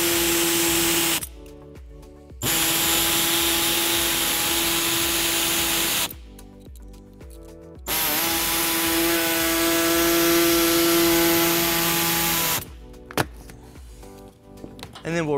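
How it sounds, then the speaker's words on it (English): An air saw cuts the plastic lower fascia of a 2013 Fiat 500 in three sustained high whining runs separated by short pauses. "we'll be using an air saw to cut that out"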